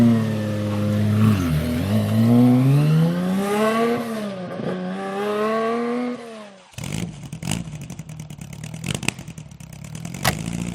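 A Porsche 550 Spider replica accelerates away with a rasping engine rising and falling through several gear changes, loud and close at first, then a softer idle with clattering knocks.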